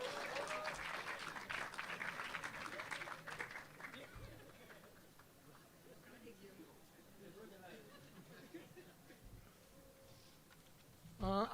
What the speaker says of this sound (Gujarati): હવે એના માટે જોરદાર તાળીઓ પાડો બધા જ.